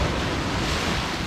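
A big ocean wave surges over coastal rocks on the wild Scottish coast, a loud, close, broadband rush of churning water and spray with wind buffeting the microphone throughout.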